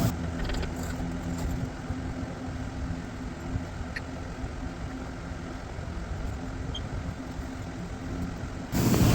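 A ratchet works on the oil pan bolts of a first-generation Ford F150 with the 5.0 Coyote engine, giving a steady mechanical clicking and grinding that runs close and continuous, with no speech.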